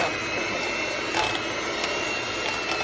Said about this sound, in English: I always use a hand mixer to do this because I like it really creamy